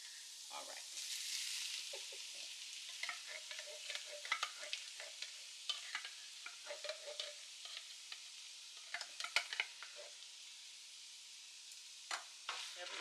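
Sloppy Joe sauce is stirred into cooked meat in a pan, giving a soft sizzle under repeated scraping, clicking strokes of a spoon against the pan, moderately close and fairly quiet.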